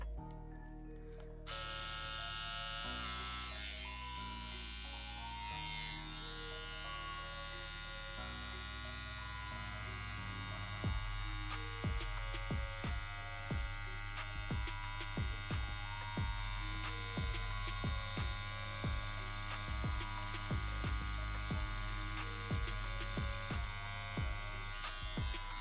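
A CNC X-WE wireless tattoo pen buzzes on silicone in a steady electric whine, running continuously with brief shifts in pitch and a stretch of faint rapid ticking pulses later on.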